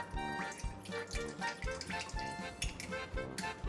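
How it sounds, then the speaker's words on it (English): Apple cider vinegar poured into a measuring cup for braised red cabbage gives a quiet, close trickle with gurgling, drip-like splashes in an uneven rhythm. No one speaks. "Now I'm going to use a mixture of about half apple cider vinegar"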